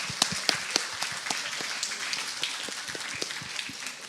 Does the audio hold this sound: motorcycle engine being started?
no